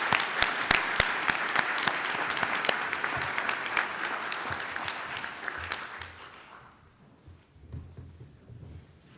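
An audience at the Pennsylvania Teacher of the Year ceremony applauds the teacher finalists with crisp, distinct claps in a full round that dies away after about six seconds into a quiet room.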